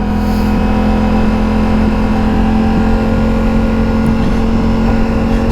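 A Ducati Multistrada motorcycle engine droning loud and steady under throttle in sport mode, a continuous low hum with slight surges and no talk.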